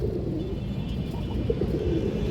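Pigeons of fancy high-flyer breeds coo softly from a loft, low murmuring calls over a steady rumbling background.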